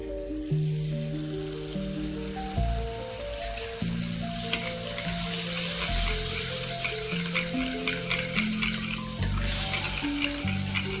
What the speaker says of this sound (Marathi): आता आपण एका बाउलमधील दही याच्यामध्ये मिक्स करून घेऊया